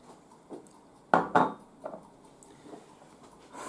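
Olive pie filling of olives, coriander, onion and olive oil being stirred in a bowl, giving a few soft clinks and scrapes, two sharper knocks near the middle, otherwise quiet with no talking.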